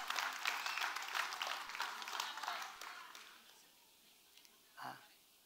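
Church congregation applauding during a Sunday service, a moderate round of clapping that fades out after about three seconds, leaving near quiet with one soft knock at the end.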